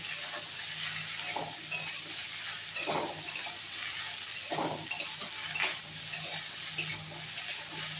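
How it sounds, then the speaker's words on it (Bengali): Taro stolons (kochur loti) being stir-fried in a pan give a steady soft sizzle, with repeated scraping stirs and light utensil clinks spaced every second or so, close and moderate in volume, no talking. "এবার কচুর লতিগুলো দিয়ে দেবো দিয়ে একটু কষে নেবো"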